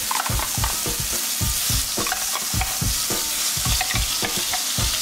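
Tomato paste sizzles in a hot frying pan while being stirred, with a steady loud fry broken by regular scraping strokes of the spoon, no voices.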